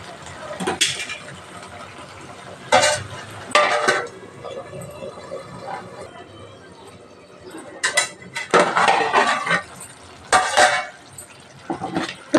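A metal spoon clinks and scrapes against a pan as turmeric is stirred into a simmering prawn curry masala, with irregular close clattering bursts separated by quieter moments.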